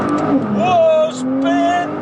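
A Nissan GTR accelerates hard with all four wheels spinning, a loud rising engine roar with squealing tires heard close up from inside the car, mixed with excited voices.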